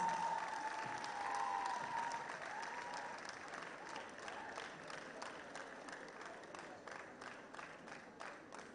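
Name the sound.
applause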